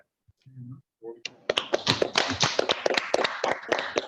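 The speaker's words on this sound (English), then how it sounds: "Can we all clap for Yogesh?" A group in a classroom or seminar claps for a student named Yogesh, starting with a few scattered taps and building into a steady burst of close, crisp handclaps lasting several seconds.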